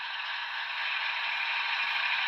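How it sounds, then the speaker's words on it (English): A steady, even hiss of air compressor sound comes from the sound decoder of an N scale AC6000 model locomotive, held constant and close for the whole stretch. "F4 is compressor."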